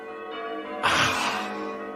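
Church bells ring out at an outdoor ceremony, a broad clanging wash that swells suddenly midway and rings on over a steady ambient hum.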